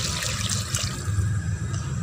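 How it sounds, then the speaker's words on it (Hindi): Roughly a cup of water poured into a pan of frying eggplant and potatoes for curry, a steady splashing gush with hissing that runs unbroken for about two seconds, with no talking. "तकरीबन 1 कप पानी शामिल करेंगे हम,"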